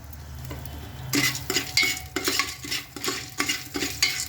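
Corn kernels with turmeric and salt stir-fried in a pan, a steady run of scraping, rattling strokes with a soft sizzle underneath, close and fairly loud after a quiet first second.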